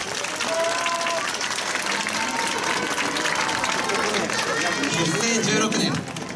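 Sustained applause from an audience at a yosakoi dance performance in Japan, dense continuous clapping with crowd chatter, filling the whole stretch loudly before easing off at the end.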